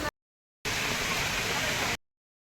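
Continuous rain gives a dense, steady hiss that starts and stops abruptly, lasting just over a second between silent gaps.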